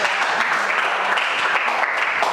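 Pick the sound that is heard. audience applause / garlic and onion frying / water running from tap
audience applause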